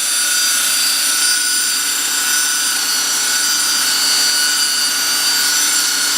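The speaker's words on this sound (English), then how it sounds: "the motor seems to be working just fine. Quite loud." A Skilsaw motor converted to run on DC, spinning continuously with a loud, steady high-pitched whine and no change in speed.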